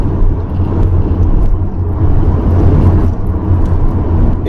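A Mazda RX-7 FD3S accelerating at part throttle, heard as a loud, close rotary engine drone and road rumble with a steady low-pitched whir and no voices.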